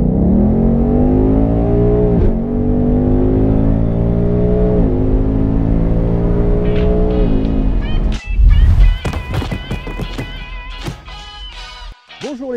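A 5-litre, 450 hp Ford Mustang V8 convertible revs hard close up, its engine note climbing repeatedly in strong pulls before dropping into crackling, popping bursts as the throttle is released.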